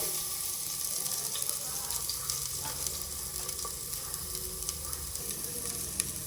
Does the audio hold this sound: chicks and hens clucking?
no